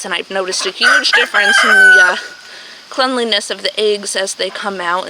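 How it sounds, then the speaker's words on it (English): A rooster crows in the background at a poultry smallholding, loud and drawn out beneath a woman's close, continuous talking, with a few clucking calls around it. "You can hear the rooster in the background"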